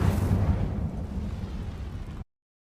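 Incendio fire spell cast in Hogwarts Legacy, a loud, dense burst of roaring flame and rumbling blast that holds steady for about two seconds, then cuts off abruptly into silence.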